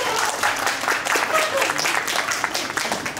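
An audience claps at a hospital clowns' show in Minsk, a continuous wash of many hands applauding, moderately loud and even throughout.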